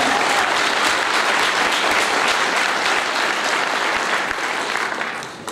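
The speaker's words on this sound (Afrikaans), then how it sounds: "Geef hom 'n lekker hande klap." Steady, dense audience applause during a church service, sustained hand clapping from a full room for several seconds before tapering off slightly at the end.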